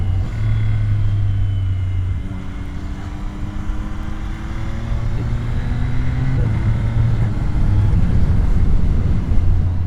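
Yamaha R9 motorcycle engine pulling steadily on a street ride, its low drone rising in stepped pitch sweeps as the throttle opens, loud and continuous with wind noise and no talking.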